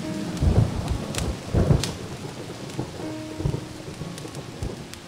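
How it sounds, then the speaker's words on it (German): A stormy scene in an Agatha Christie adventure game plays steady rain and wind, with a few low rumbles of thunder and sharp crackles over it and no talk. "Ein Dreckswetter."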